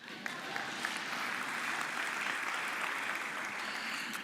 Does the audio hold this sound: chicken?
no